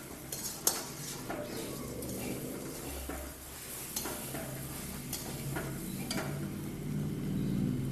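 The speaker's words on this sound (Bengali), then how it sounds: "এবার মশলার সঙ্গে মাখিয়ে নেব।" Puffed rice is tossed with spices in a pan over low heat, giving soft scraping and stirring with sharp metallic clinks of a utensil against the pan at irregular intervals and a faint sizzle underneath.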